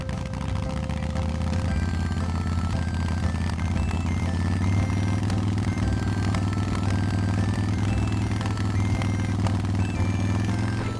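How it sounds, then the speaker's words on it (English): A red motorcycle at a children's museum rumbles with a steady idling engine drone, loud and close, with a clattering rattle and slight pitch rises as it runs continuously. "It's a red motorcycle!"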